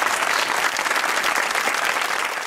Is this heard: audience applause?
yes